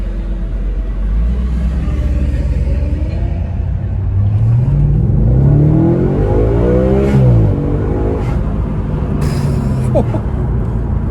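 A 450-horsepower Audi RS4 V8 accelerates hard, a loud, close engine roar whose pitch climbs through the gears, with distinct upshifts and a rising sweep before easing off.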